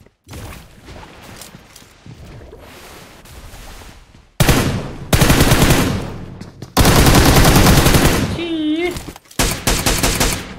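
Rapid automatic gunfire from a mobile shooter game played on an iPad Pro blasts in loud, dense bursts, starting quieter and then erupting into heavy sustained volleys with brief gaps and a rising whine near the end.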